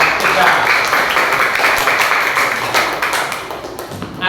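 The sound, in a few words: applause for group 3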